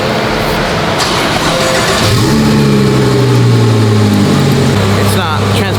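A 2,200 HP Lamborghini engine fires up and revs, its deep throb climbing and settling into a steady loud drone, with people talking over it.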